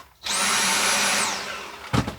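A cordless Dyson vacuum cleaner kept charged in an RV bathroom whirs up sharply to a loud, high steady whine, holds for about a second, then winds down, followed by a brief knock.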